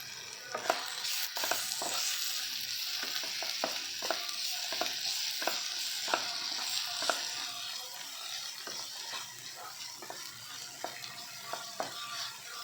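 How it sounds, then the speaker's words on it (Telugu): Prawns fry for a prawn and egg mix fry, seasoned with salt and chili powder, with a steady hiss of hot oil under sharp spoon scrapes and stirring strokes that repeat roughly twice a second, close and clear with no talking. "ఉప్పు కారం వేసుకొని బాగా తిప్పుకోవాలండి"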